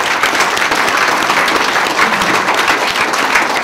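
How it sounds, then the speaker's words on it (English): Sustained audience applause for conference sponsors at a keynote, dense and even clapping from a large crowd filling the whole stretch at steady loudness with no break. "Can we give a quick round of applause for our sponsors again?"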